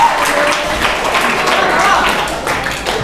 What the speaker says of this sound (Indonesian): Guys, tepuk tangan.